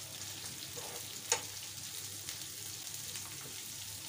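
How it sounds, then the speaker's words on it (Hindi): Onions and spices fry in a pan for fish curry with a quiet, steady sizzle and one brief clink partway through, over a faint background hum. "ये सब फ्राई हो जाएगा।"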